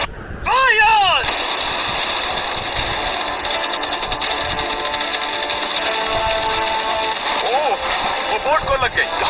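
A barrage of about a hundred cannons firing at a boat, heard as a dense, loud rattling roar of rapid shots that runs on without a break, with voices calling over it and a few rising whistles.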